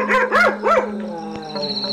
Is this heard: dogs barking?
yes